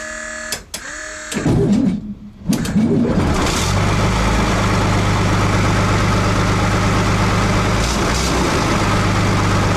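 A tracked ATS-59G tractor's heavy engine starts with rough bursts, then settles into a loud, steady low idle that keeps rumbling near and close to the end. There are scattered bird calls in the background.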